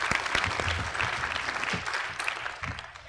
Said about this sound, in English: Round of applause for Dennis.